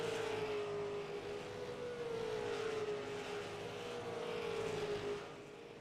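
Race cars roar past on an oval track during a late-race battle, a loud sustained engine drone with a pitch that slowly bends as the field runs close together, steady and continuous throughout.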